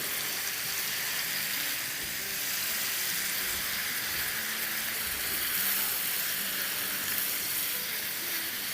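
Onions, marinated chicken and spices sizzle steadily in a pan over the flame, a continuous close frying hiss that stays even and moderately loud throughout with no talking.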